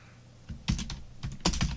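Quick keypresses on a computer keyboard during simple children's game programming, a handful of close clicks in an uneven burst, with no voices.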